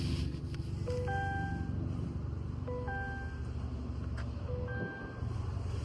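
Power liftgate on a 2025 Cadillac Escalade IQ Sport closing while its button is held, with a motor hum under three repeated two-tone warning chimes and a soft thud near the end.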